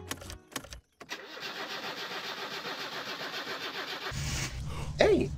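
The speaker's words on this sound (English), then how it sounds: "I filled up the fuel tank with my jerry can and started her up" A car in My Summer Car cranks with a starter whir, catches and settles into a steady mid-pitched idle, then revs up slightly near the end.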